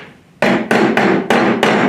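A hammer strikes metal to flatten it in a metal shop, with five loud, ringing blows at an uneven pace after a brief quiet moment, each leaving a short metallic ring.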